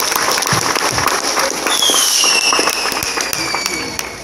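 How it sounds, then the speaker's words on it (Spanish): Dense crowd applause with crackling claps and whistles at a sociocultural festival in San Mateo Yoloxochitlán, loud and continuous, with a voice speaking over it and high whistling tones cutting through. "Un aplauso más a Dios, Jesucristo,"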